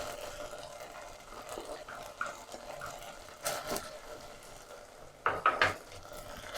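A fried egg and softened vegetables for a chicken sandwich are stirred in a frying pan. Soft scraping and a low sizzle run throughout, and a few quick metallic clinks come near the end, with no voices.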